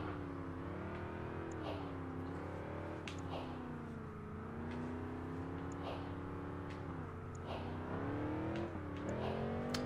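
A Jaguar car engine in the racing video game Project Gotham Racing 4 revs and whines steadily, pitch rising and falling in repeated surges, with faint background sounds.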